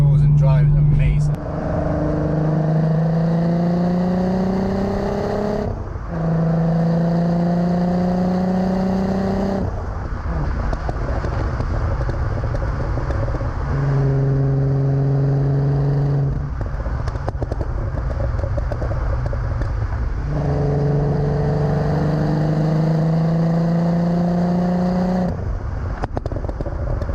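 A car on Bilstein coilovers accelerates hard, its loud, close engine note climbing steadily in pitch through each gear and breaking off briefly at every shift, several times over.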